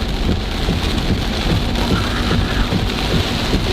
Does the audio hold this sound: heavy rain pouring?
yes